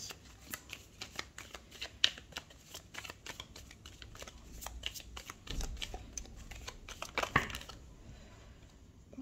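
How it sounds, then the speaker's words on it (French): Tarot cards shuffled by hand in a quick, irregular run of crisp riffles and taps, close and moderately loud, without speech. "Je ne parle plus pendant les mélanges de cartes."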